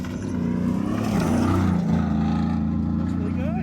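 A Ford F150 fitted with a Dirt King long travel suspension kit drives over dirt with a continuous loud engine drone that swells and holds steady, while a voice talks over it.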